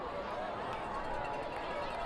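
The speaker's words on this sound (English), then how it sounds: "You hear the crowd chanting, "Let's go Dylan" right now." A crowd at a high school football game between the Allen Eagles and Prosper Eagles roars in a continuous, broad wash of voices. A chant may be blended into the noise, and a commentator talks over it.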